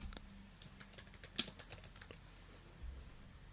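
Quiet typing on a computer keyboard, a quick run of light clicking keystrokes with one sharper tap in the middle, close and faint over low background hum.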